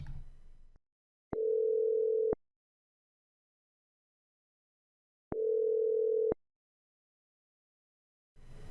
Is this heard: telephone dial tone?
yes